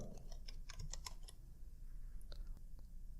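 Soft, rapid clicks of a computer keyboard as a word is typed into a Microsoft Word 2016 replace box, a quick burst of keystrokes close by with quiet room tone and no talking.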